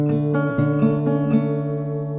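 Guitar playing the D bass part: a few plucked notes ringing over a sustained low open string, steady and close, with no speaking.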